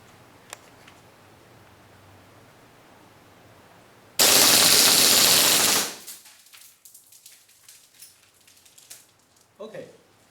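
A WE G18 airsoft pistol fitted with a CNC steel slide fires a loud, fast full-auto burst lasting under two seconds, followed by quieter clicks and handling noises.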